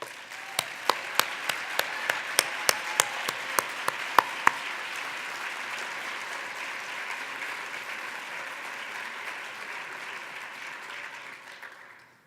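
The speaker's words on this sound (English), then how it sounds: "So please give a round of applause to SCG staff" Applause for staff at an SCG annual conference, opening with a handful of sharp, distinct claps that quickly merge into steady crowd clapping, which holds evenly and then fades at the end.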